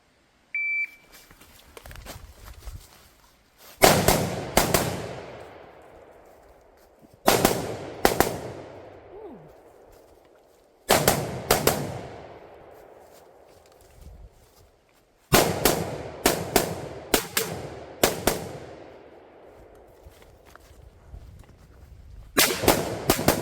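Gunfire at a practical shooting match, with bursts of several rapid shots in four or five strings separated by pauses, loud and close with ringing echo trailing off after each volley.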